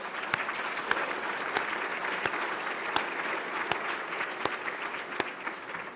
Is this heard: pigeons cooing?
no